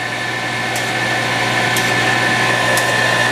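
A vacuum pump runs during AC repair on a 2006 GMC. It makes a loud, steady mechanical drone and whine that stays constant throughout.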